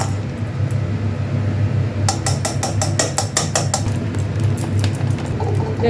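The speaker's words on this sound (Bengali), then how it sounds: "বেসনটা চেলে নিচ্ছি" Gram flour (besan) sifted through a metal sieve in a home kitchen, heard as a quick run of about a dozen sharp, evenly spaced taps in the middle, over a steady low hum.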